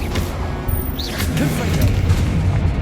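Expelliarmus disarming spell impact in the Hogwarts Legacy video game, a short loud thump and whooshing crash amid dense, steady game combat noise.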